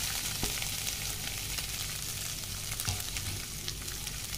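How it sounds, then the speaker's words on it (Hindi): Boiled chicken fries in oil in a kadai over a low flame, giving a steady, close sizzle that runs the whole time, with a few soft knocks and scrapes. "चिकन को हम लोग भून लेंगे,"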